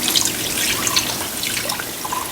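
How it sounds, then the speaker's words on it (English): Water is poured into a pot over baby back ribs until it rises partway up the meat, a brief loud splashing, bubbly pour with no talking. "Now to that, I'm going to add water till it's about 2/3 up on the side of the meat."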